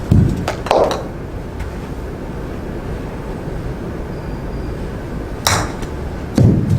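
Golf approach shots are struck during a lesson, giving a few sharp, crisp impacts spaced apart over quiet outdoor background.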